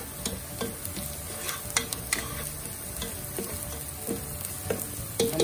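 Onion and garlic frying in hot oil for seasoned quinoa, a steady crackling sizzle broken by frequent spoon scrapes and taps against the pan, nearby and without voices.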